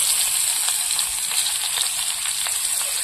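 Dried red chilies, onion and garlic frying in oil for stir-fried water spinach, a loud, close, continuous sizzle with scattered crackles and no voices.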